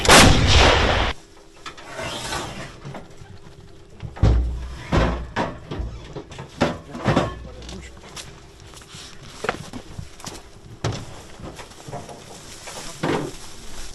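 A loud, deep artillery gun blast opens, followed by scattered heavy thuds and bangs, with people talking intermittently around them.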